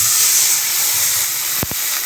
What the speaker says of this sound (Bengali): আমটা একটু ভাজা ভাজা হয়ে গেছে, এবার একটু আমি জলটাকে ঢেলে দেবো